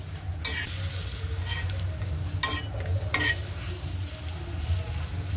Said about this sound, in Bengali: দিয়ে এবার শুধু ভাজবো। তো চলো ভাজা হয়ে যাক